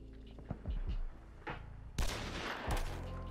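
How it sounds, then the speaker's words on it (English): Gunfire in Hunt: Showdown, a rapid cluster of sharp cracks followed by a loud, booming long-range shot and a second report, rolling out and ringing across open terrain with no talk. "I lead a shot at like 380 meters through the vegetation"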